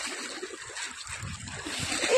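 Splashing as someone wades through river water, a loose churning slosh and spatter that builds toward the end, close and fairly loud, with faint voices behind it.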